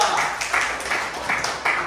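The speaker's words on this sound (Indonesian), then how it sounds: "Ayo, yang lain berikan tepuk tangan untuk kelompok 2." A classroom of students claps for a presenting group, a thin, uneven patter of hands that rises and falls in small bursts.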